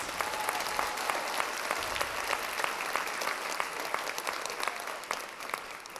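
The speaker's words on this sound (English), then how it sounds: "Let's give those ladies a round of applause." An audience at a summer festival queen pageant applauds warmly, a dense, sustained patter of many hands at moderate distance, staying fairly even for about six seconds.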